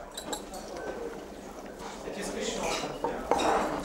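Dishes and tableware clinking and knocking as they are handled and checked in a restaurant, light irregular clatters throughout with people talking over them.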